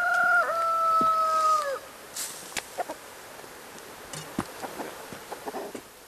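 Chickens at a rural home in Jirisan's Piagol valley, one of dozens kept there, crow loudly once near at hand, then give scattered short clucks at a distance.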